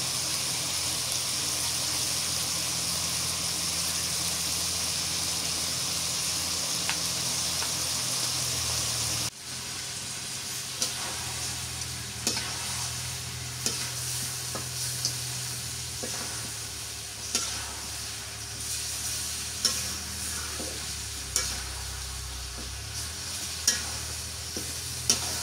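Potatoes go into a pan with garlic, ginger and cumin paste and are stirred as they fry, making a steady sizzle with a sharp change when they drop in, then rhythmic scraping clicks of the spoon against the pan.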